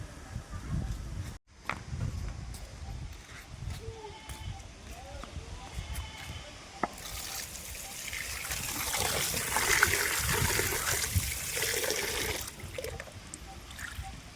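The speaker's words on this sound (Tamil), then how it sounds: "போய் பைப்பில் கழுவிட்டு வரலாம் கொஞ்சம் ஃப்ரெஷ்ஷான தண்ணியில்" Water runs steadily from a tap over fish being washed, swelling into a heavier, broader rush partway through, with faint voices and handling noises in the background.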